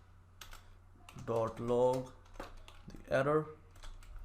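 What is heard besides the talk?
typing code on computer keyboard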